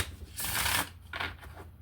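Tarot cards shuffled and drawn during a reading, a loud riffling burst lasting about half a second followed by a shorter, softer flick of a card, close and alone.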